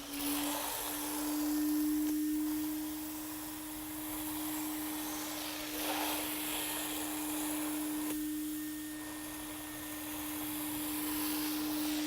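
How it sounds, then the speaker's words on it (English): A vacuum cleaner picks up leftover sand from a concrete floor laid over radiant heating tubing, its steady motor drone holding one strong whine throughout, with slight swells as the nozzle moves, close and continuous with no talk. "I'm getting ready to vacuum the residual sand"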